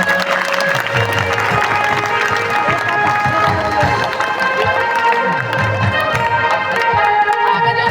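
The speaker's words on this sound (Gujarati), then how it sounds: "તો વૈશાલીબેન આપણે સૌ તાળીઓના ગડગડાટથી એમનું સ્વાગત કરીશું અને સન્માન કરીશું" A school crowd at a Guru Purnima celebration in Mehsana breaks into loud, sustained applause to welcome a guest, with cheering, voices and tonal music mixed in.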